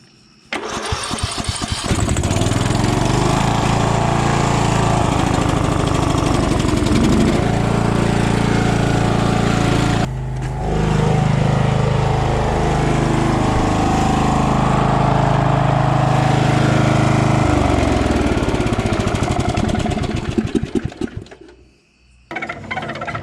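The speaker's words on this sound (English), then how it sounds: "Hopefully the generator will start up" A generator cranks and catches, then runs loud and steady at close range for about twenty seconds, with a brief dip in the middle before it settles and fades near the end.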